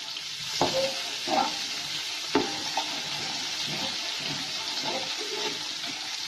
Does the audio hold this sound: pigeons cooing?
no